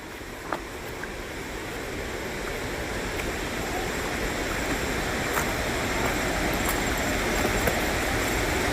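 A river flows steadily along a mountainside trail, a continuous broadband rush of water that holds at an even, fairly loud level throughout, with faint scattered clicks and no voices.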